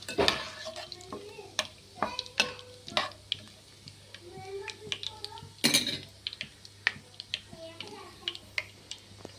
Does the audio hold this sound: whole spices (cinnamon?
yes